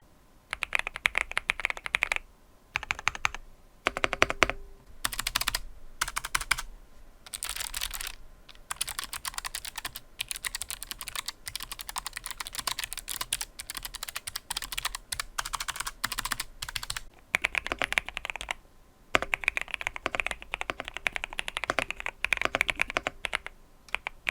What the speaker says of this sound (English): I'll give you some lovely beauty shots of this keyboard in action